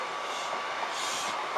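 A train passes at Newark North Gate station with a steady, broad rushing roar of wheels on rails, loud and close throughout.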